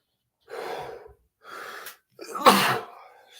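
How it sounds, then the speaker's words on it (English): One person sneezes nearby. Two sharp intakes of breath build up to a loud, forceful burst that trails off into breathing. "Sneeze."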